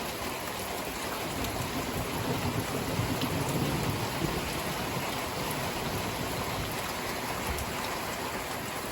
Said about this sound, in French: Ces orages.